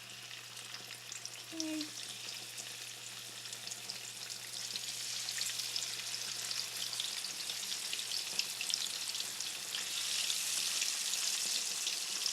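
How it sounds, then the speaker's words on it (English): Fish pieces frying in hot oil for a fish curry, a steady bright crackling hiss that grows louder and denser over time, with one short spoken word early on. "so I'm going to start putting the fish pieces in here"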